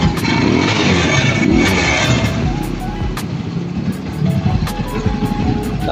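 A car engine idles steadily at close range with a constant low rumble, its condition tied to an oil pump that would not pump oil, while someone talks over it.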